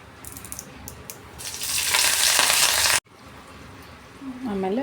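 Mustard seeds, cumin and curry leaves hit hot oil for a tomato saru tempering, bursting into a loud sizzle after a quiet start that cuts off abruptly, followed by softer kitchen sounds.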